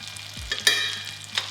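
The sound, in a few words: steak sizzling in the pan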